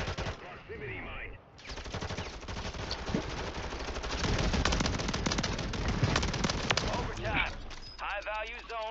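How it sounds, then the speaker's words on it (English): Call of Duty Warzone 3 gunfire from a distant parking garage on a Lockdown match: dense, loud bursts of automatic weapons fire crackle almost continuously, with players' voices talking over the shooting. "someone shooting from the far parking garage"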